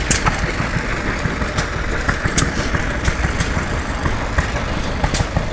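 A powerful modern Cummins diesel engine runs steadily on a tractor or piece of heavy equipment at an outdoor show, giving a loud, continuous rumble with a fast, even pulse and no talk over it.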